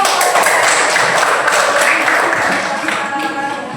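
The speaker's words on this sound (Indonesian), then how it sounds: "tepuk tangan dulu" A classroom group gives a round of applause for the first presenting group, a steady wash of clapping held at an even level throughout, with voices mixed in.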